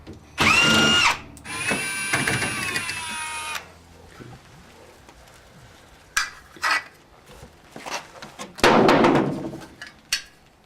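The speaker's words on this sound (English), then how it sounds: "having an electric drill will be very helpful for taking these out" An electric drill whirs in a loud burst with a rising and falling whine as it removes screws from the front panel of a Generation 3 EcoQue oven and smoker, followed by scattered metallic clanks and knocks.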